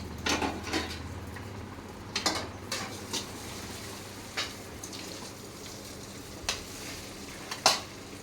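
Hot oil sizzles softly as a tempering is made for semolina dhokla, while metal utensils clink and scrape against a pan several times, close by and without talking.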